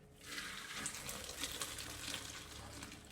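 Boiled udon noodles are drained, with water pouring out in a soft, continuous splashing rush that stays faint and fairly even throughout.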